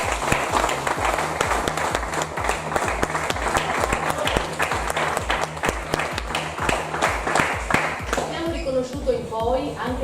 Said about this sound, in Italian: Quindi a voi tutti penso vada il nostro applauso